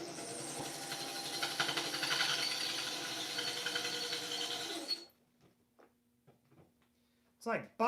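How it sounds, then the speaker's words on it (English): A power tool buffing metal whines loudly and continuously for about five seconds, then cuts off, leaving quiet with a few faint knocks and a brief rustle near the end. "It's like buffing it out."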